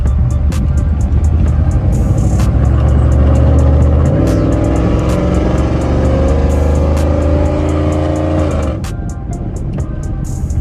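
A cammed 2013 Chevy Tahoe PPV revs loud and close, its aggressive exhaust rising and surging steadily before dropping back to a lower rumble near the end.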